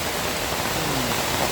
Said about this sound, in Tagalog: sobrang lakas ng ulan ka-adventure, oh.